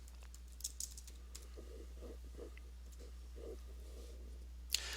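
Typing on a computer keyboard to enter a fund name into online donation software: a faint, sparse patter of soft key taps with a couple of sharper clicks, set against a steady low hum in a quiet room.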